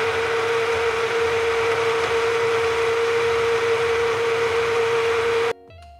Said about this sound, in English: So I'm just blending it, and then I'm gonna add more water to it just to make it more hydrating.